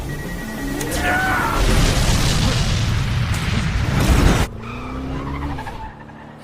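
A loud, roaring film explosion with heavy low rumble lasts a few seconds and then cuts off abruptly, leaving a quieter background.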